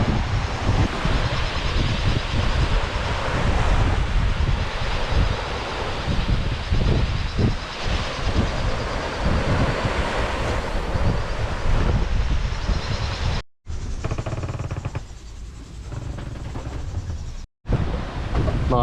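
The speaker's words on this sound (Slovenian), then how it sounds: "Danes je spet vetrovno." Strong wind, gusting over 30 knots, roars into the microphone aboard a sailboat running downwind with the waves on a round-the-world voyage near Malekula, a loud continuous rush with brief dropouts near the end.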